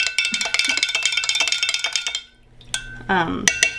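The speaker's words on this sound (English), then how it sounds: "I'm just going to stir it. And stir it really well." A spoon stirs lacto-fermented soda culture in a container, clinking rhythmically against the sides in quick repeated taps, pausing briefly before a final burst of scraping, ringing clinks close by.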